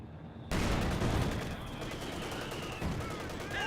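Sustained MG42 machine gun fire from the World War II strategy game Company of Heroes 2, a dense loud burst that starts abruptly and rolls on continuously under game noise, with faint talk in the background.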